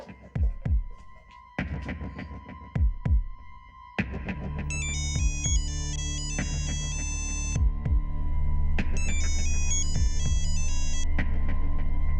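A phone ringtone plays a repeating electronic melody, loud and close, following a few brief clicks and taps.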